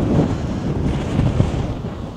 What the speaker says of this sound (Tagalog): Sobrang lakas ang hangin.